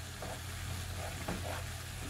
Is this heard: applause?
no